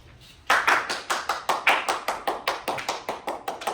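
A classroom audience claps in a short, steady burst of applause after student presentations, brisk and even, with no talking over it.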